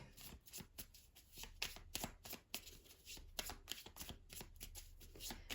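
Oracle cards being shuffled by hand during a reading, a soft, close run of quick riffling slaps and flutters repeating steadily for several seconds, quiet and without talk.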